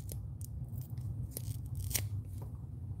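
Knipex pliers cut through material with a few quick crisp snips over a low steady background hum.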